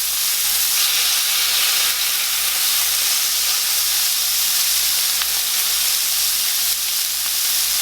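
Chipotle steak bites sear in a hot pan with a loud, steady hiss and sizzle that fills the whole stretch, close and unbroken, with no voices.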